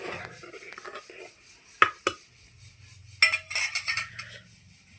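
Metal spoon clinks and scrapes against a pot while Maggi noodles with lemon juice are stirred, a few sharp close clinks among softer scraping, with faint background noise.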